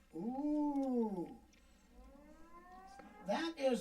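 A siren-like wail rises and falls in long sweeping tones, closer to a voice imitating a siren than a real one, on a murder-mystery game show, then repeats briefly at the end.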